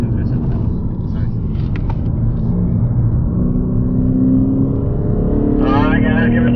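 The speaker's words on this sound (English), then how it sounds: "This car, the sound is amazing." A Lexus engine drones loudly and steadily on a race track, close and continuous, with the pitch shifting slightly as the throttle changes. A voice talks over it.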